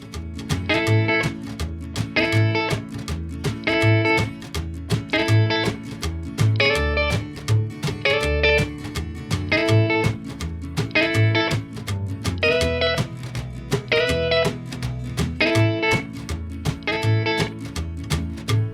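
Twangy electric guitar rockabilly lick in A repeating in short phrases over a steady low bass pulse, bright high notes recurring regularly.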